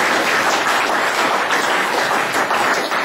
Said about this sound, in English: I know you're poised to clap.